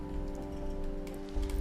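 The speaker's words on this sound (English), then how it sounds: "And of course we come in here and it is raining." Steady rain falls in the stormy Tempest dimension of a video game. The patter is short and even, with a constant low tonal hum of ambient game music beneath it.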